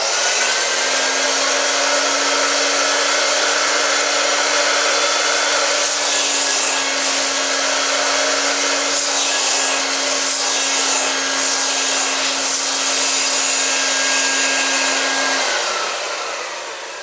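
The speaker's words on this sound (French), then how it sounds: "on va rincer avec la machine pour éliminer le savon" A carpet cleaning machine rinses soap out of a paint-stained carpet, giving a loud, steady whirring roar with a constant hum that runs almost the full length before tapering off at the end, with no talking.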